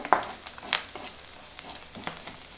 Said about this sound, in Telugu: బాగా చూడండి కరివేపాకు వేస్తే ఏ సౌండ్ వస్తుందో అదే సౌండ్ వస్తుంది మునగాకు వేగే కొందికి